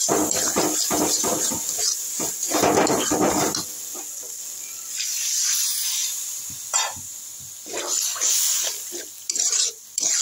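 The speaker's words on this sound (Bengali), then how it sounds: "দিয়ে এটাকে আমি এখন জল দিয়ে দেবো" Water poured into a hot pan of spicy egg fry masala seasoned with sugar and salt, giving a loud, steady sizzling hiss broken by uneven bursts of spluttering.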